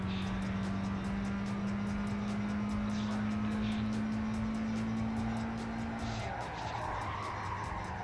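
In the Gran Turismo 5 racing game, a car drifts with a long, sustained tire squeal over a loud engine roar, the skid holding steady for several seconds before it eases off.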